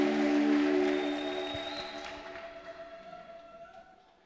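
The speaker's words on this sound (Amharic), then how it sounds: "እልልታ ጭብጨባ ለጌታ ክብር።" A church congregation ululates and claps, a high warbling trill of many voices fading out over a few seconds with scattered applause beneath.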